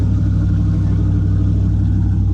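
Cammed Hemi V8 in a Jeep Commander idling, a loud, close, continuous low rumble with a steady lopey pulse and no pauses.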